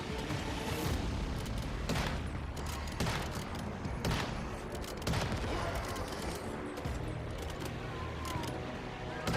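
A Gatling gun fires in the survival shooter Once Human, a dense, continuous rattle of rapid shots with occasional heavier booms. The burst stays loud and unbroken throughout.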